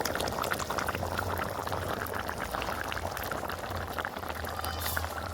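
A vegetable curry bubbles at a steady boil in a kadai, with continuous soft popping and gurgling heard close up and alone, without talk.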